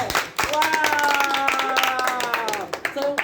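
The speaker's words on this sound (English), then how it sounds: "that's a best clap for her" A crowd of people clap for a woman at a gathering of Ghanaian women who sew, a short burst of scattered hand claps with some voices mixed in.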